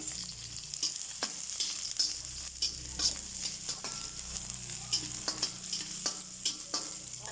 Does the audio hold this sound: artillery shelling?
no